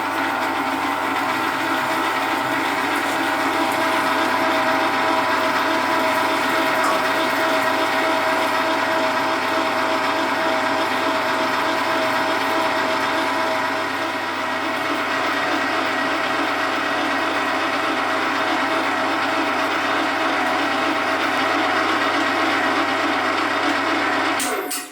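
A meat grinder grinds sausage meat for Nürnberger-style Rostbratwurst, running as a steady, loud mechanical whir with a grinding rasp. It holds constant for about twenty-five seconds, with no talk.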